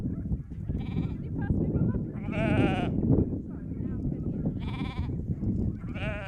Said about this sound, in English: We're weaning our lambs from the ewes.